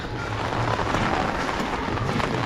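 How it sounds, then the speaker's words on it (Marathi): Dense, steady rush of heavy rain pouring down outdoors, continuous and fairly loud, with no voices. "आता पाऊस जोरात यायला लागला"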